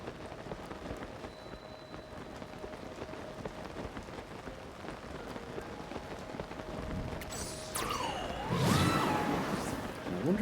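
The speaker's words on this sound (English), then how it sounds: "I wonder if there's a way that you can get rid of this rain," Steady rain falls and patters on surfaces in Zelda: Tears of the Kingdom, a constant hiss with a brief whooshing swell near the end.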